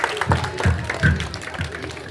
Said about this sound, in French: Applaudissez. Plus fort. Encore.